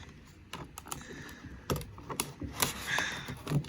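A knife slices through plastic blister packaging on a 2024 Disney Cars diecast car, giving a run of small clicks and scratchy scrapes, close and fairly quiet, with no talking.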